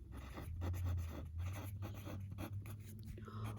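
Pen or pencil writing notes by hand on paper while working through dilation examples, a steady scratching across the whole stretch with a low hum underneath.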